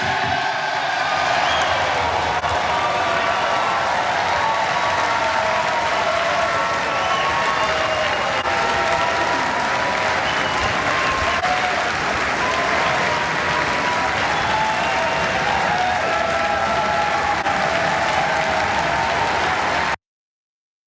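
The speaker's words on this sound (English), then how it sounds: "they're clapping like it was the first time" Members of the House of Representatives applaud the election of the Speaker, a steady, loud roar of clapping from a large chamber crowd with scattered cheers, continuing without a break for about twenty seconds.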